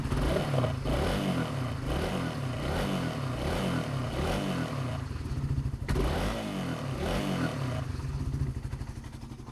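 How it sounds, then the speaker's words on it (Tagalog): Motorcycle engine revving repeatedly at close range, its rising and falling pulses running a 6000-watt power inverter, with some mechanical clatter, loud and steady throughout. "habang nagre-rev ka ng motor"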